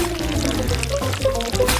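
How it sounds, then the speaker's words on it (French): Honey poured into a glass while preparing a strawberry dessert, a steady soft pouring and trickling sound lasting about two seconds with light kitchen background noise. "Je verse le miel dans un verre."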